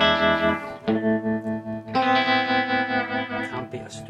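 Fender Stratocaster played through a Fender Deluxe Reverb amp with vibrato turned up high, sustained chords pulsing and shimmering with reverb, loud and close with no talk.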